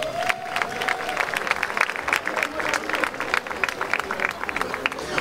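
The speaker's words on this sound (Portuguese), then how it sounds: "Um salve de palmas bem forte para Joca de Somada." A crowd applauds steadily, dense clapping with some cheering mixed in, filling the space throughout.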